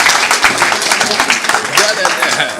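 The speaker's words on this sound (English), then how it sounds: "Give Fuad a round of applause, ladies and gentlemen." Audience applause and clapping for a winning bidder at a charity auction, a dense, steady crowd patter lasting throughout, loud and close, with voices mixed in.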